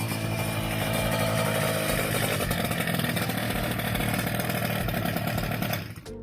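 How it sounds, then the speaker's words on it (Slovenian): A small NRG scooter, freshly repaired by a mechanic, runs loud and close with a rough, buzzing two-stroke drone that holds steady before cutting off abruptly near the end. "malo sem šel zapelat se s tem skuterčkom"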